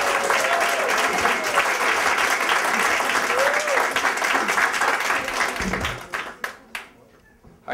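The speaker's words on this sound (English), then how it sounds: "Clap for Luan, everybody." A comedy show audience breaks into loud sustained applause with a few whoops and cheers mixed in, then thins out into scattered last claps before falling quiet.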